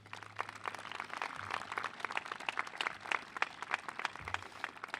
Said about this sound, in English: Graduates, I'd like you to give those folks a round of applause,